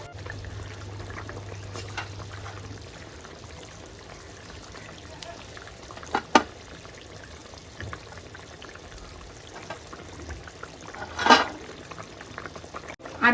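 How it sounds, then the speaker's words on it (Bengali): Fish curry gravy with potato and cauliflower boiling vigorously in a pot, a steady low bubbling with occasional sharper clinks and splashes, with a voice speaking at times. "ঝোল একদম টকবক করে ফুটে উঠেছে"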